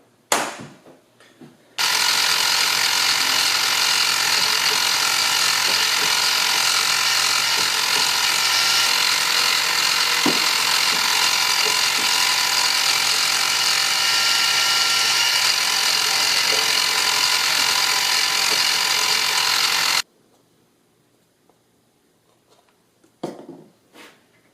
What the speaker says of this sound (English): Tapping these holes out to M4 in this thick metal is going to take damn near forever.